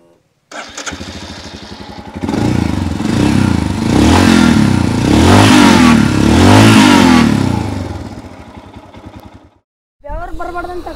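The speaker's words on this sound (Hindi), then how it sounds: "And let's listen to the exhaust note once." A 2023 BS6 Royal Enfield Himalayan single-cylinder motorcycle revs hard from a start, its exhaust note rising and falling through several loud throttle blips close by, then cutting off briefly before idling again.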